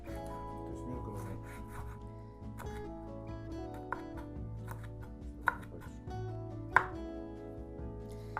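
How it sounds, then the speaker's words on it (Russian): Knife chopping a bell pepper on a board, with steady rapid taps and a few sharper knocks, over continuous background music. "сейчас мы этот перчик, вот остатки, нарежем довольно мелко"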